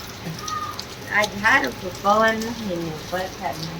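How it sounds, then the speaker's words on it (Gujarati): Heavy monsoon rain pours steadily over farm fields as a constant hiss, while people chat and laugh over it. "આવો વરસાદ વરે ને તો મજા આવે"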